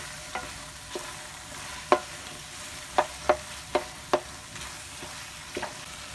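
Mashed potatoes being stirred into fried masala in a kadhai for aloo bharta, with a soft fry underneath and several distinct scraping knocks of the spoon against the pan, spaced irregularly.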